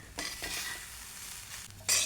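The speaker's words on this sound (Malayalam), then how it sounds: "ഈ ഫുൾ ഫ്ലെയിമിൽ തന്നെയാണിത് വറുത്തുകൊണ്ടിരിക്കുന്നത് അത് നമ്മൾ കൈവിടാതെ ഇങ്ങനെ ഇളക്കിക്കൊണ്ടിരിക്കണം" A curry spice mix dry-roasts over a full high flame while it is stirred without pause, giving a steady close sizzle and scraping hiss that swells briefly louder near the end, with no voices.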